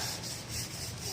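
Sandpaper rubbed by hand over a surface, a brief faint rhythmic scratching of back-and-forth strokes, close and quiet.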